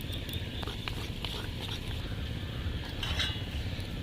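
A spoon stirs semolina batter after half a spoon of baking powder is added, giving a steady close scraping and clinking against a bowl with soft wet patter, continuous throughout with no talking.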